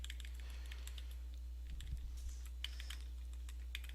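A computer keyboard clicks faintly as code is copied, with light, irregular keystrokes over a low steady hum and no talking.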